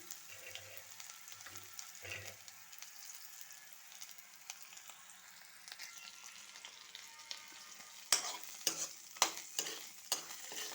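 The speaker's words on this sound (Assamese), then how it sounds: "তেলখিনি গৰম হৈ যোৱাৰ লগে লগে ইয়াত মই পিঁয়াজখিনি দি দিছোঁ আৰু পিচি থোৱা নহৰু বটাখিনি একেলগে দি দিছোঁ" Onion and crushed garlic frying in hot oil, a steady soft sizzle with occasional stirring scrapes; near the end, a few louder knocks and scrapes of a utensil in the pan.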